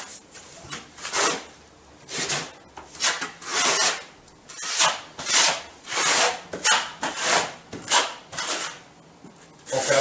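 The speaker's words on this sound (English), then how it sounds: "we load the trowel up with adhesive, and then we start spreading it" A steel trowel spreads tile adhesive in repeated scraping strokes, about a dozen rhythmic rasping sweeps heard close with no talking.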